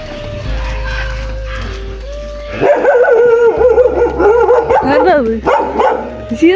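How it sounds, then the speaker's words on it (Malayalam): Several dogs, a German shepherd and a native breed, bark and howl close by in drawn-out, wavering cries that grow louder partway through, with people's voices mixed in. "ഇവിടെ എല്ലായിടത്തും ഉണ്ട് പട്ടി ജർമ്മൻ ഷെപ്പോർഡ് നാടനും"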